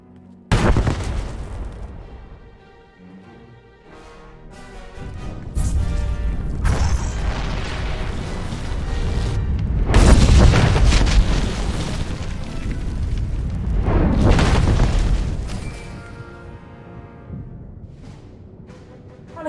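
A huge explosion in Star Wars: The Old Republic on Corellia, building-collapse rubble, rolls in as a long, loud, surging roar. Rumbling bursts swell and fade over the whole clip with no voices.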